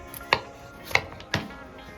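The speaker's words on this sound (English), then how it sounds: "Start with 2 large russet potatoes, peeled, then sliced into quarter-inch rounds." Peeled russet potatoes sliced into quarter-inch rounds on a board, three distinct knife chops spaced apart, crisp and close with quiet pauses between.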